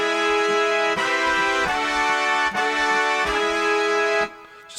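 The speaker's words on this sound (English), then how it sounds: "the only other thing on the lower keyboard here is the brass sound" A big, brassy synth brass patch from MainStage 3 is played on the upper part of a split keyboard, with loud sustained chords that change about once a second, each ending in a brief fade.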